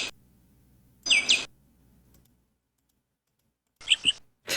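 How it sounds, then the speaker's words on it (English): Birds give two short bursts of bright chirping, each lasting a fraction of a second and separated by quiet, with a clipped chirp at the very start and end. "There's some birds in here."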